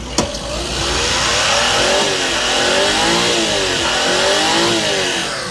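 A turbocharged three-cylinder engine in a Suzuki Every wagon (DA64W) revs up and holds high, a steady rising and falling mechanical roar, loud and close, with no talking.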